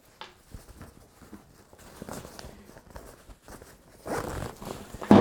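A zipper is drawn around the admin pouch of a 3V Gear Shift Urban Sling Pack in a series of close, scratchy pulls, growing louder toward the end, with no talking.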